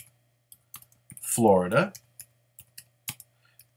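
Keys tapped on a computer keyboard to enter a trip name, sparse isolated clicks spread around a short burst of speech, close and fairly quiet.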